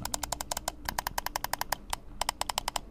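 Mechanical face buttons on a Flydigi Direwolf 3 gamepad click sharply and evenly, about two dozen crisp taps in quick bursts with brief pauses, close and alone.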